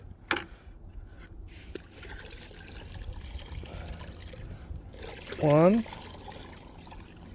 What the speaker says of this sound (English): We'll just kind of put them in the water a little bit.